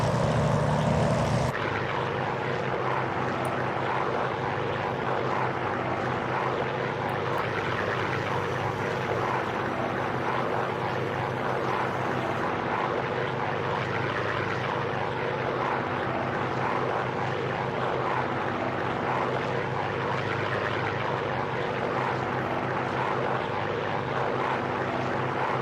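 A P-40F propeller fighter in Microsoft Flight Simulator drones steadily through a takeoff, its engine and prop roaring loud and constant without letup for the whole stretch.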